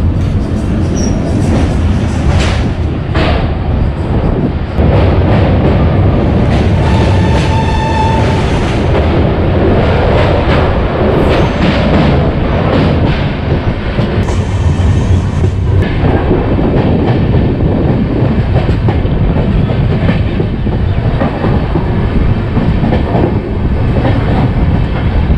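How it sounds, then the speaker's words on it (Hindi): The Poorva Express rolls across the new railway bridge over the Kiul river with a loud, steady rumble and rhythmic clatter of wheels throughout, and a brief metallic squeal partway through, heard from on board with no talking. "ट्रेन हमारी जो किउल रिवर के पास नया वाला रेलवे ब्रिज है वहाँ से क्रॉस कर रही है।"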